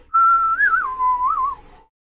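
A single clear human whistle imitates a little clay whistle, with one sustained warbling note that rises, dips and wavers for nearly two seconds, close and loud with no other sound.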